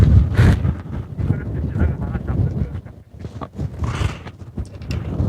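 Gusty wind buffets the microphone on a harbor breakwater at Hupo Port during night squid fishing, a loud, rough, continuous roar rising and falling in waves.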